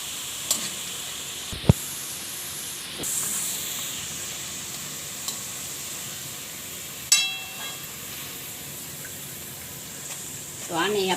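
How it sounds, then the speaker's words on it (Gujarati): Dal frying in hot oil for green chevdo gives a steady hiss and sizzle throughout, broken by a few sharp clinks and stirring knocks. "આપણે આને સરસથી તળી લેવાની છે"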